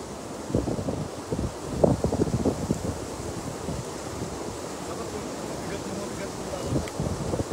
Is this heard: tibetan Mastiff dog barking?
no